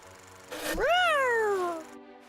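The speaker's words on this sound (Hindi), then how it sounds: "उसकी आवाज बिल्कुल बिल्ली के बच्चे की तरह थी" One drawn-out, high kitten-like mew from a cartoon lion that rises and then slowly falls, close and clear against quiet background noise.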